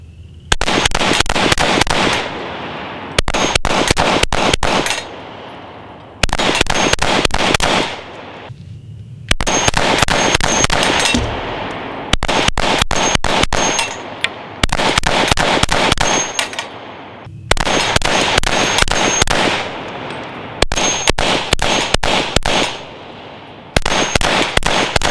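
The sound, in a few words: compensated handgun shots fired in low light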